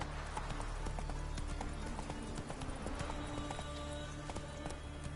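Roach the horse's hooves trot in The Witcher 3, a steady, continuous clip-clop rhythm that stays close and even throughout, backed by a low ambient game soundscape.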